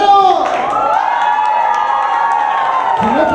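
Children and adults at a clown performance cheer, shout and clap loudly, a continuous excited roar of high voices with applause running underneath.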